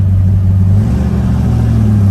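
A 1968 Chevrolet Camaro engine revving while driving, a loud, close, throaty drone that holds steady and shifts slightly in pitch as the revs change.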